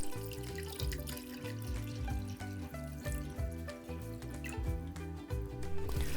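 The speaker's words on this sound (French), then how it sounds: "on place la trémelle entière dans un grand bol ou un saladier et on va largement recouvrir d'eau" Water running into a large bowl over whole dried snow fungus, a steady close pouring and splashing stream with rising gurgles as the bowl fills, no voices.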